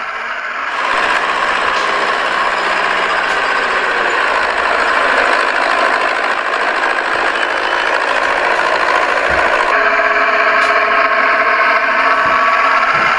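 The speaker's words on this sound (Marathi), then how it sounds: "ट्रॅक्टरचा आवाज येऊन राहिला" A farm tractor engine runs steadily in a village field, a loud continuous rumble and clatter that holds throughout with no talking.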